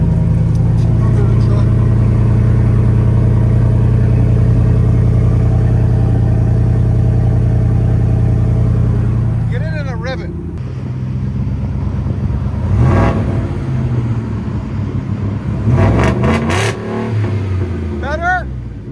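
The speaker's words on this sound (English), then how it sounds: "That's with the exhaust cutout open." A 5.0L V8 Ford F-150 with its exhaust cutout open rumbles loud and throaty nearby, then revs sharply in several bursts with rising whines; people talk briefly between the revs.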